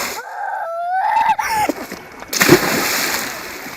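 A four-year-old child splashes into the water of Dukan Lake, with one loud splash and sloshing near the middle, preceded by a short voice and followed by lingering water noise.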